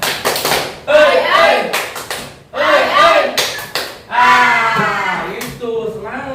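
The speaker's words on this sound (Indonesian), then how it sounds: "Tepuk semangat." An Indonesian middle school class claps in a rhythmic spirit-clap pattern, with bursts of synchronized claps and children chanting along between them.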